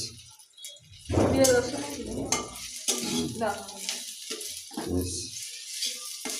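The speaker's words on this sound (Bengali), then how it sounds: "এবং রসুন এবং ঝাল, কাঁচামরিচ যেটাকে বলা হয়, খেতে ভাজি করা হচ্ছে" Onion, garlic and green chili fry in a pan, giving crackling sizzles and stirring scrapes with clinks of utensils, close and fairly loud, with a voice speaking in between.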